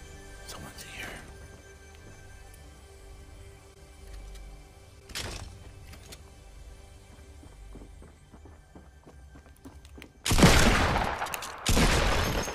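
Gunfire in the video game Fortnite: a few scattered shots and footsteps, then two loud bursts of firing near the end, with a player talking throughout.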